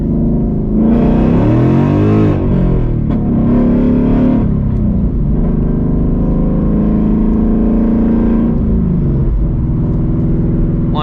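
A car's engine is revved hard to warm up the tires, loud and close, with rising and falling pitch sweeps in several surging bursts and a steady rumble between them, no talk.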